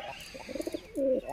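A pigeon coos in a few soft, throaty bursts, then gives one longer, louder coo, close by with faint background noise.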